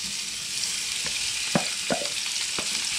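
Boneless pork chops fry in a pan with a steady, loud hissing sizzle and a few scattered clicks and scrapes, and no one speaks.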